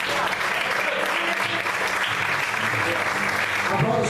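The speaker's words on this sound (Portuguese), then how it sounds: "Você pode aplaudir," A church congregation applauds in a loud, dense burst of clapping that fills the room evenly, with a preacher's voice speaking over it.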